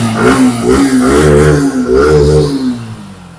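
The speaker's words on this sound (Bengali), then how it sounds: "গাড়ি কিন্তু স্টার্টিং এ রয়েছে দেখো স্টার্টিং এ রয়েছে শুনতে পাচ্ছ" A motorcycle engine runs steadily in a bike showroom near Kolkata, a loud, close, continuous drone with slight rises in pitch across the whole stretch.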